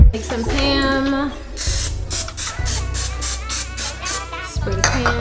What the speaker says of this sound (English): Spray the pan down